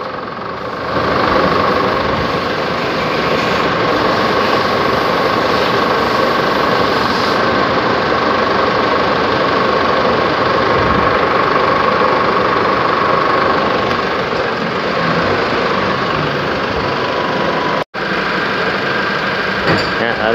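A Chevrolet Trailblazer engine with a failed air-conditioning compressor idles steadily with the air conditioning switched on, a loud continuous rumble with a faint knocking texture and no talking.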